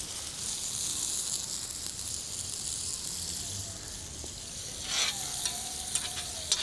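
Pork and pork gravy sizzle steadily in a pan with a soft, even hiss, joined near the end by a few brief scrapes and clinks.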